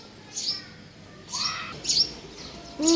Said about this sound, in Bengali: ওই যে চড়ুই পাখি